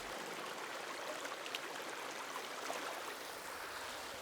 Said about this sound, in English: This includes flowing water that cascades over rocks in a downward trajectory.